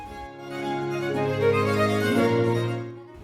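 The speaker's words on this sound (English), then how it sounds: "It's called Canon in D, written by Pachelbel." Pachelbel's Canon in D plays softly, with smooth, sustained chords that shift gradually from one to the next over a few seconds.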